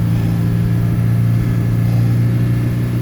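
Chevy Tracker engine idling high after a cold start on a freezing morning, a steady close droning hum holding nearly level throughout.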